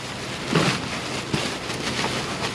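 Outdoor rain falls in a dense patter of drops on surfaces, with a couple of louder soft thumps and a steady wash of noise throughout.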